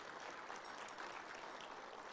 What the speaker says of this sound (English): Please give him a round of applause because Roy's awesome.